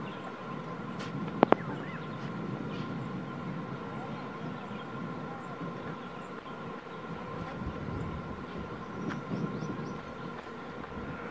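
A diesel train rumbles across the Konkan Railway's Panval viaduct, a constant low roar of wagons with a sharp horn-like squeal early on, heard from a distance.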